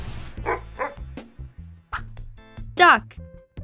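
A dog barks a few short times, fairly close, between bits of bright voiced sound that could be a person imitating it.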